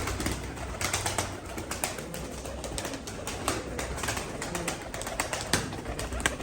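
Pigeons flutter and shuffle close by, wings flapping in brief bursts over a dense, busy background with faint cooing.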